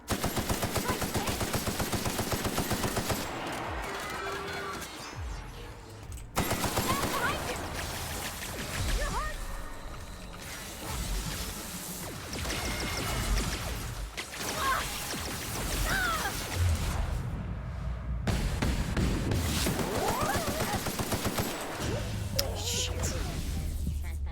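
Rapid bursts of gunfire from a gun in The Outer Worlds, loud and close, with repeated volleys and crashing impacts over a dense game soundtrack across the whole stretch.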